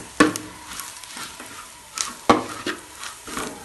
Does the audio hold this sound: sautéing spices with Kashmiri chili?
yes